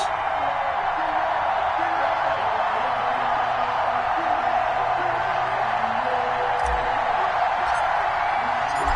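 Stadium crowd in an EA Sports NFL video game ahead of a Kansas City Chiefs versus Baltimore Ravens matchup, a dense continuous roar with scattered whoops, steady and fairly loud throughout.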